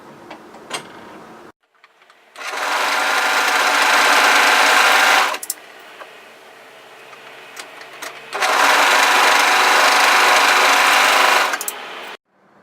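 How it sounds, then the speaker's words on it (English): An overlocker serger stitches down the sides of fabric for a cowl neck top in two long steady bursts, each running about three seconds, loud and close with a fast even whir, separated by a quiet pause and handling noise. "We're going to overlock each of the sides."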